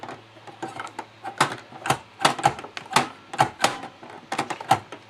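Rapid, irregular clicks and snaps from an NES console's cartridge connector as a cartridge is pushed in and won't seat, crisp close-up taps scattered across several seconds with no talking.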